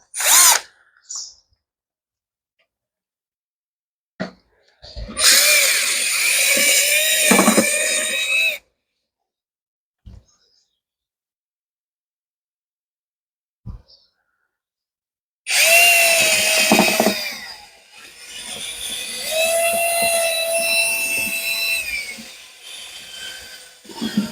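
A power drill mixes a sulphur solution with about five litres of rainwater. Two long, steady whirring runs are separated by silence and brief clicks, loud and close.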